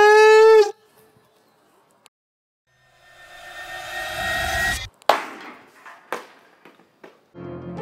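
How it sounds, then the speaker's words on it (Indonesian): A GM motorcycle helmet is dropped from a third floor and strikes the ground with a sharp hard crack, followed by a few lighter bouncing knocks and rattles as it settles, close and loud. "Mari kita lempar dari lantai 3."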